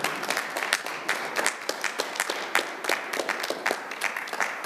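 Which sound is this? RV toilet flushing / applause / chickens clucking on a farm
applause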